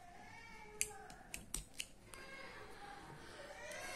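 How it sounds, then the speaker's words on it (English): Scissors cutting crochet yarn close up, a few sharp snips in quick succession over a quiet room background. "then I'll cut my yarn"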